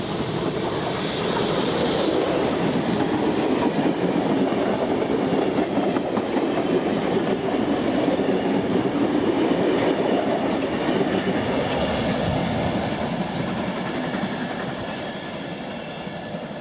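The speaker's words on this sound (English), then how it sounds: "we see the locomotive passing us at Coldcliff as it heads back to Sydney" A steam-hauled train passes at Coledale, New South Wales, heading back toward Sydney: a loud, steady rumble of carriages with clattering wheels and metallic squeal throughout, fading a little toward the end.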